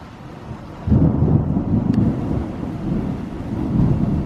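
A deep rumble of thunder rolls in suddenly and keeps going loud and broad, with rain and wind noise underneath it and no one speaking.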